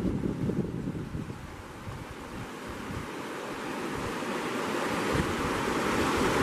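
Swift water of the Cispus River rushing over exposed rocks, a steady broadband roar with gusts of wind noise against the microphone, loud and continuous throughout.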